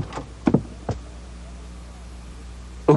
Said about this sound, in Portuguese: Chaves bate a porta do seu Madruga.